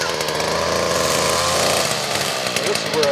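A Stihl FS 56RC gas brush trimmer runs steadily after warming up, its small two-stroke engine buzzing loud and close at a constant idle-to-mid speed.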